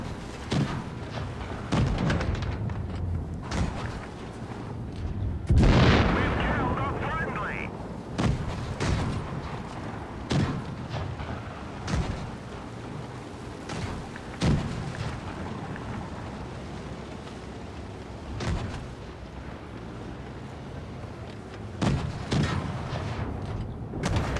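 Tank cannons fire HE shells in the mobile tank game World of Tanks Blitz, loud booming blasts recurring every few seconds with one long rumbling explosion, while someone talks over the action.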